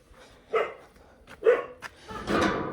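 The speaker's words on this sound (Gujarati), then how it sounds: "અમારે ડોગીને ખબર પડી ગઈ કોક આવ્યું છે દરવાજે" A dog barking because someone is at the door, three loud nearby barks spaced apart, the last one longer and rougher, with no talk over them.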